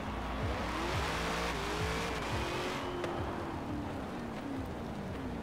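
A race car in Forza Horizon 4 roars under hard acceleration with its engine pitch repeatedly climbing through gear changes and tires squealing, a steady loud in-game racing mix with no talk.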